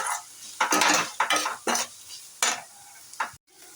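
Drumstick pieces and tomato are stirred in a pan, with a series of distinct close scraping strokes of a spoon against the metal, separated by short pauses and a faint background sizzle.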